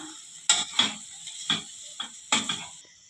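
A spoon mixing mashed potato with masala in a pan for a kids' snack, giving about six sharp, close taps and clinks at irregular intervals over a quiet background.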